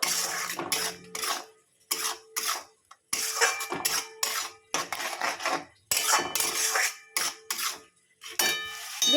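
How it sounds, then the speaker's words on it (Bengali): Turmeric and chili powder being fried with spices in a pan, heard as repeated bursts of metal spatula scraping and clanging against the pan, broken by brief pauses, loud and close with no talking. "হলুদ আর লঙ্কা গুঁড়ো দিয়ে দিলাম দিয়ে একটু ভালো করে কষে নেবো"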